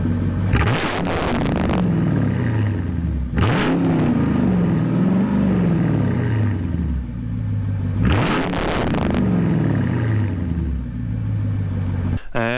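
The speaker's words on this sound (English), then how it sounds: "and here's the car starting" Mercedes CLK55 AMG V8 after a fuel pump replacement, cranking into life then revved three times in rising and falling sweeps, loud and close, settling to idle between blips.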